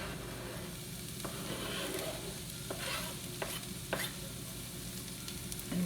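Chopped mushrooms sizzle in a hot pan, a close, steady frying hiss broken by several sharp spatula scrapes and taps as they are stirred, with no talking.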